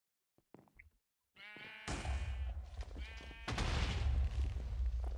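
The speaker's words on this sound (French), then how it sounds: "on va tirer notre mouton" Sheep in the Minecraft Sheep Wars game bleat in a few short, quavering calls, then a loud sustained blast of game noise swells up and covers the rest.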